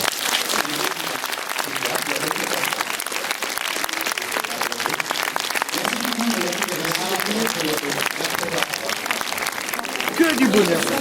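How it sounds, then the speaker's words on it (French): Loud, sustained applause from an audience at a film preview screening, steady dense clapping throughout with some voices mixed in and a slight swell near the end. "Bon, merci de les applaudir"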